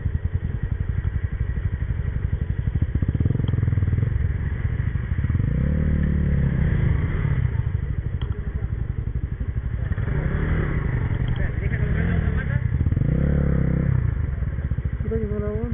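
A motorcycle engine runs steadily and loudly on a mountain route, with clattering and thumps over the drone and brief revs, while a voice talks faintly underneath.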